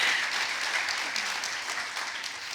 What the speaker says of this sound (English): Can we get a round of applause for that, please?